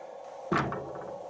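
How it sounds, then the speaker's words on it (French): A single dull knock or thud against a door sounds once, fairly close, in a quiet room with a low steady background hiss. "Si vous êtes encore là, tapez une fois contre la porte"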